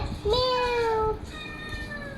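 A single drawn-out cat meow, clear and fairly close, followed by a fainter, shorter mew against a quiet background.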